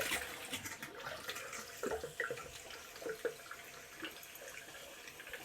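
Hot water runs from a motorhome sink tap into the basin, a steady close splash and trickle with small clinks, alone with no talk.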